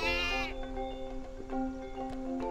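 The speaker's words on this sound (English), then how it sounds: "Honestly, Hugo, they're just sheep." Sheep bleat in the Skylanders: Spyro's Adventure video game, with one loud, wavering bleat at the start, then quieter calls over a steady tonal game drone.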